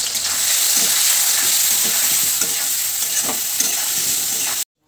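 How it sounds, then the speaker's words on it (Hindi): Paneer seasoned with salt and turmeric fries in a hot pan, giving a steady, close sizzle. Scraping stir strokes recur throughout, and the sound cuts off abruptly at the end. "अभी पनीर फ्राई हो गया।"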